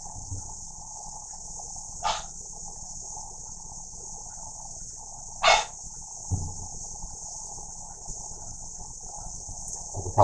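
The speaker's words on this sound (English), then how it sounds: "You can probably hear my dog Windsor in the next room barking at the cats because they won't play with him" A dog barking from the next room in a home kitchen while sweet tea is made. The barks come as a few isolated, muffled bursts over a steady high insect-like hum.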